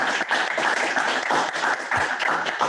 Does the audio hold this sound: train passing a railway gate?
no